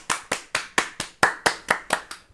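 Steady rhythmic clapping from a single pair of hands during a hobby live stream, about ten sharp, evenly spaced claps, close and fairly quiet, with no talking.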